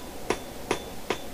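A blacksmith's cross-peen hammer strikes a steel leaf being forged, giving three evenly spaced, sharp metallic blows over a quiet background.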